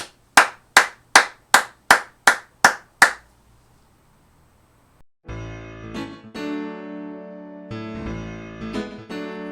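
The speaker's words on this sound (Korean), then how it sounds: "우리 박수 치실까요?" Eight loud, evenly spaced claps ring out in a church after a Wednesday worship service, then stop, and sustained musical tones follow.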